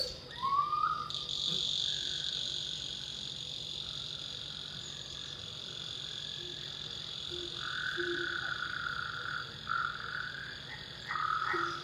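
Frogs croak in a night-time chorus at moderate distance, with a steady layer of insect trills and crickets running underneath throughout, no voices.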